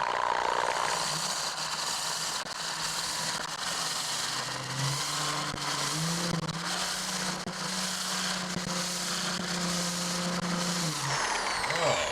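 Electric corded drill stripping paint from a wooden door casing, its motor whining steadily with a few shifts in pitch and grinding scrapes against the wood, ending with a brief spin-down.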